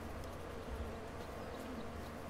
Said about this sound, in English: Yes, we've got bees as well. Bees on the farm.